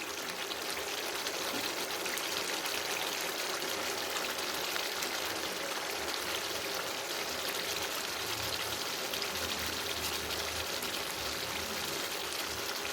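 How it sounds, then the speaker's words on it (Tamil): A pot of vegetable fish curry (saiva meen kuzhambu) at a steady boil gives a dense, even bubbling hiss that runs unbroken throughout, close and moderately quiet. "இப்போ நல்லா குழம்பு கொதிச்சுட்டு"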